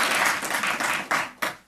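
Audience applause at a conference, a dense wash of clapping from a crowd that swells and dips in waves over a couple of seconds, with a few sharper bursts near the end.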